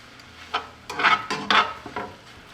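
Ramen being stirred in a pot, a few close scraping and clinking strokes of a utensil against the metal in short irregular bursts, with no talking.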